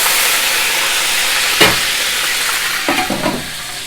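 Garlic ginger paste sizzling in oil in a pan, a steady close hiss, with a sharp clatter midway and a few scraping stirs near the end.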